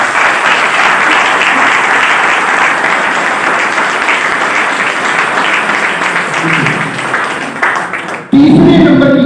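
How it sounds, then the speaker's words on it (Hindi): Loud, sustained applause from a seminar audience, dense clapping that holds steady for about eight seconds before cutting off abruptly. "एक बार अपने लिए जोरदार तालियां बजाएं"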